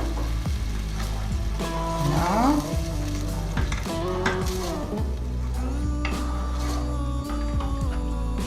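Tomato sauce and tomato purée cook in a pan with pasta and tuna, sizzling and bubbling steadily nearby, with occasional stirring scrapes and clinks and no talking.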